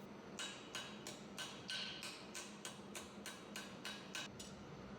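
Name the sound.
ball peen hammer striking metal on anvil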